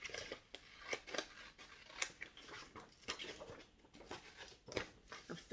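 Scissors snip through paper while cutting out a paper crown, giving a series of quiet, crisp, irregular snips and rustles, close and faint, with no talk.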